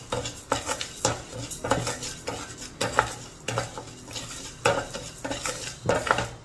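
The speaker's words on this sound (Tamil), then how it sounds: "இப்போ கொஞ்சமாக பச்சை வாசனை போக லைட்டாக அந்த பருப்பை வறுத்துக்கணும்" Lentils dry-roasting in a pan, stirred with a metal spoon that scrapes and clinks against the pan in repeated close strokes over a faint sizzle, with a low steady hum underneath.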